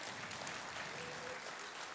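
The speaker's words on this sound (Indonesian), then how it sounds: "Satu tepukan kepada anda." Steady applause fills a Malay-language company presentation hall, a dense wash of many hands clapping at an even level from beginning to end, fairly faint and slightly distant.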